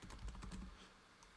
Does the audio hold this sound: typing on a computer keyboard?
yes